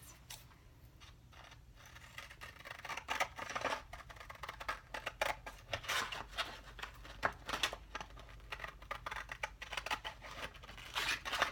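A sanding stick being cut with scissors: a run of crisp, irregular snips and crinkly crunches, close and fairly loud, with no talking.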